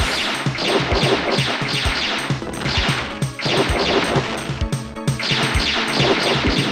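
Arcade section of a Japan-only PS1 video game: a dense, loud wash of crashing, clattering effects over a steady pounding beat, repeating in short loops with no talking.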